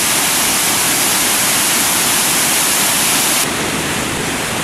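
Waterfall beneath a swaying suspension bridge in a park near Cairns, Australia: a loud, steady roar of rushing water filling the whole clip, close and unbroken.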